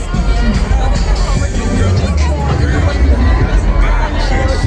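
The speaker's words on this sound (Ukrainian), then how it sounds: "Де натовп найбільший рухається в мій бік" Dense crowd leaving the ATLAS UNITED 2024 music festival, a loud close babble of many overlapping voices and footsteps moving past, with a nearby voice talking over the steady hubbub.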